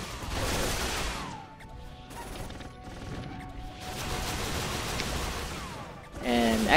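An exploding Vulcan gatling gun in RF Online rattles out rapid bursts of gunfire that crash into monsters, with noisy impact blasts between a few lulls, followed by a sharp rising effect at the end.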